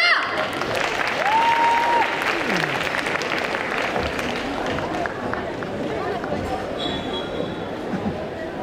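A crowd applauds loudly and steadily at a cosplay parade during a Japan and manga festival in Quimper, the clapping dense and continuous, slowly easing, with a brief tone and faint voices in the background.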